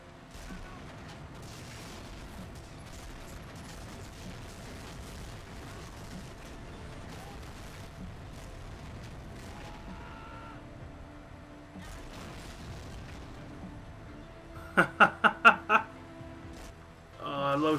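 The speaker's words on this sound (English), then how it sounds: "I love shooting big old guns like that." Big guns fire in the World War II shooter Medal of Honor: Frontline, with four loud rapid booming shots in a tight burst near the end after a stretch of low game ambience.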